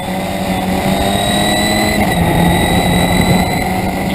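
A 1981 Reynard historic Formula Ford 2000 racing car sliding toward Lodge Corner at Oulton Park, its engine a steady, loud, sustained drone with a high whine held across the whole stretch.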